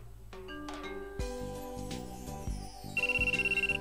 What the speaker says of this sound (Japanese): 電話がかかってきた。